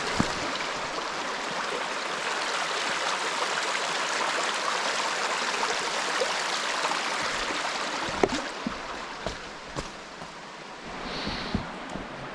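A low creek at Panther Creek flows with a soft, continuous rushing hiss close by. Toward the end, scattered light knocks and rustles sound over the water, and no one speaks.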